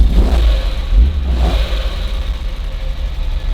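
A 1981 Ferrari 308 GTB's carbureted 3.0-litre V8 with four Weber carburetors revs loudly and close up in two quick blips, then settles into a steady rumbling idle.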